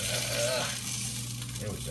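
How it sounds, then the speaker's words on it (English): Sausage frying in a pan, a close, continuous crackling sizzle with brief stirring sounds, alone without talking. "Fry up these edges a little bit."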